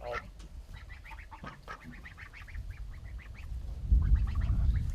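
Domestic ducks quack in repeated short, nasal calls that carry clearly on and off throughout, with a low rumbling noise building up toward the end.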